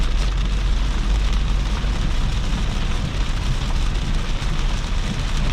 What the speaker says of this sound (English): I don't think I had a rain like this for quite a long time.